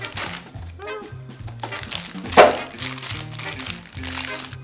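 Biscuits being crushed for a tart base give crinkly, crunching cracks in bursts, with one sharp louder crunch midway, over soft background music.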